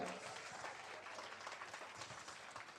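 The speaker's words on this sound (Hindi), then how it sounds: "सबने उठ के स्टैंडिंग ओवेशन तो बनता है, खड़े होके जोरदार तालियां बजाएंगे यार" Guests at a sangeet ceremony rise for a standing ovation, their steady, dense clapping filling the room. It sounds somewhat distant and soft, with faint voices mixed in.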